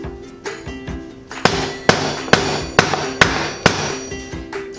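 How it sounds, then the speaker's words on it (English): Heavy hammer blows drive out a BB92 press-fit bottom bracket bushing on a carbon bicycle frame. Seven or eight loud metallic strikes ring out in a steady rhythm, each one sharp with a brief ringing decay, and no voice is heard. "now we can just knock this bushing out of the other side. So I'm gonna pound on this pretty heavily"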